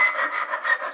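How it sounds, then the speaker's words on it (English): A hand file rasps back and forth inside a hole in wood to round it for fitting cabinet hardware, giving a steady, close scraping stroke that repeats several times with no voices. "all I'm going to do is just start to file this"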